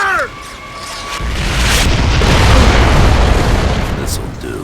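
A mortar shell explodes in the Gears of War 3 video game: a loud, close boom that swells into a sustained rumbling blast lasting several seconds, with a brief voice at the very start.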